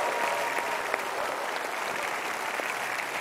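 Audience applause for a band who play unusual instruments such as pots, steamers and buckets, on an Indonesian TV talk show; dense, steady clapping fills the whole stretch at an even level.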